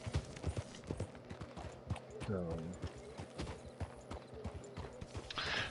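Horse hooves clip-clop steadily on ground in Red Dead Redemption 2, a rhythmic close patter running throughout, with a short whinny midway and someone talking over it.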